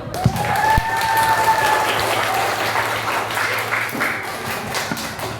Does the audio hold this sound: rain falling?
no